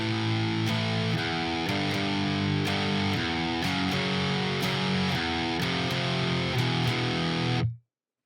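Distorted electric guitar hammers out the power chords of a song's outro, heavy sustained chords changing in a steady rhythm with sharp accents, loud and close, ending in an abrupt cut to silence.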